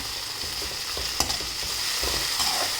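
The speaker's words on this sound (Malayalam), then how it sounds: "ഇഞ്ചി പച്ചമുളക് വെളുത്തുള്ളി പേസ്റ്റ് ഇത് ഇതുകൂടെ ആഡ് ചെയ്ത് കൊടുത്ത് നല്ലപോലെ വഴറ്റിയെടുക്കാം" Ginger, green chili and garlic paste sautéed in a pan for a pumpkin curry give a steady, close sizzle with scraping stirs and a few sharper clinks over the hiss, and no one talks.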